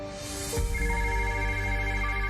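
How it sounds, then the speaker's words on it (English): A phone ringtone rings clearly and steadily, its electronic melody sustained and close with no one speaking over it. "My phone starts ringing."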